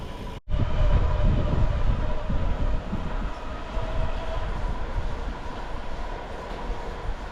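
Train rumbling across a railway bridge overhead, heard from a suburban cycle path underneath, a loud sustained low roar that starts abruptly and keeps going with steady rolling wheel noise.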